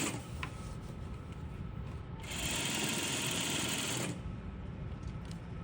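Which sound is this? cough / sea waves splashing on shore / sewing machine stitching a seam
sewing machine stitching a seam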